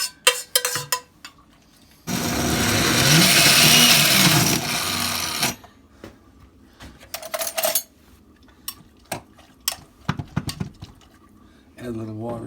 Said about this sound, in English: pepper and garlic stuff into the blender here